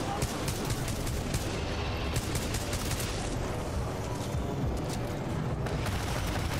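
Turret gunfire in the video game Titanfall 2, a dense, continuous barrage of rapid shots with rumbling booms, loud and unbroken for several seconds with no talking.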